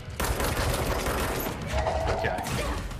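Sustained automatic gunfire in the video game Control: AWE, a dense, loud burst of shots running through the whole stretch with a continuous crackling roar and no pauses.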